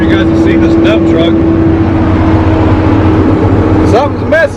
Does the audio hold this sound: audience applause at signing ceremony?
no